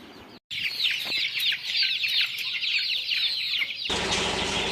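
Kili mookku (parrot-beak) roosters cluck and chatter steadily close by, a dense run of hen-like calls over several seconds, with no talking.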